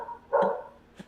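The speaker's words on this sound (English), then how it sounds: "that's my dog who's going nuts right now" A dog barks twice nearby, one loud bark followed by a shorter, quieter one a moment later, with no voices over it.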